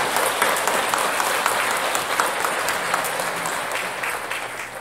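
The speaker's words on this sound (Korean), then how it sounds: "환영의 박수 한번 쳐드리면 좋을 것 같습니다." Church congregation applauding together to welcome a family during Sunday Mass, a steady, dense wash of clapping from many hands that holds evenly for about five seconds with no speech over it.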